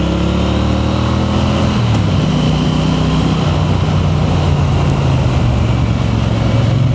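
A Triumph T120 motorcycle being ridden, its engine a loud steady drone with wind rush, pitch dipping briefly then holding a constant note under the whoosh of the ride.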